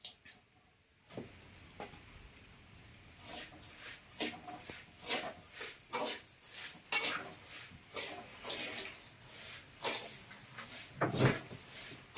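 Cumin and ajwain seeds dry roasting in a pan for chakali, heard as light scraping, stirring and metal clinks against the pan, moderately close and irregular, with brief kitchen clatter and no voices.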